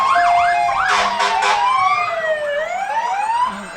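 A Nevada City Fire Department fire engine siren wails loudly and close by during an Independence Day parade, sweeping up and down continuously, with bursts of a blaring horn near the start.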